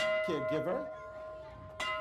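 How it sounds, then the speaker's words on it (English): A bell rung in celebration by cancer survivors and caregivers gives a sustained ringing tone that lingers, struck again near the end, while people talk over it. "And we are ringing the bell."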